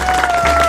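Studio audience applause on a French radio comedy show, a short dense burst of clapping and crowd noise under a steady electronic tone, loud and close throughout.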